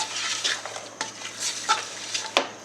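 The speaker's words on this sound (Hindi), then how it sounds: "4 से 5 मिनट यहाँ पर इसको हम करेंगे फ्राई।" Vegetables and peas fry for chicken pulao in a steady, close sizzle, with a spoon scraping and stirring against the pan several times.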